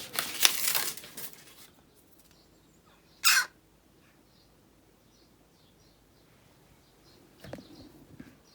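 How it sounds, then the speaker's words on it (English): Jackdaw giving a couple of short harsh squawks, one burst at the start and another a few seconds later, with faint rustling and quiet gaps between. "It's a jackdaw."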